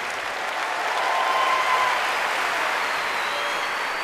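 A large concert audience greets the Israeli army's chief cantor Shai Abramson with a dense, continuous wash of applause, loud and even for the full stretch with no talk on top.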